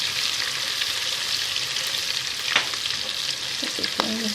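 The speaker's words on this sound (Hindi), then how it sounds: "मिर्चें भी चटपट करना शुरू कर दिया मिर्चों ने" Chillies and curry leaves fry in hot oil for a mixed vegetable sabzi, giving a steady close sizzle with scattered crackles and a few louder pops toward the end, with no talk.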